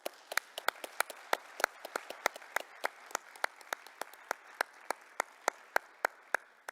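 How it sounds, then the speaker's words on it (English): Sparse clapping at a forest champions award ceremony, a few hands striking in distinct, fairly even beats over a quiet room, each clap sharp and separate rather than a blended roar. "I would like to give you a big applause"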